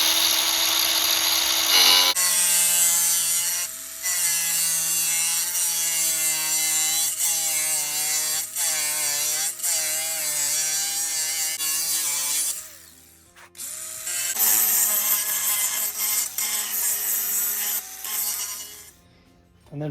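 Metal roof rack pieces for a Sprinter van kayak rack are cut at an angle with a power saw, a loud continuous grinding whine with rising and falling pitch, briefly pausing before resuming.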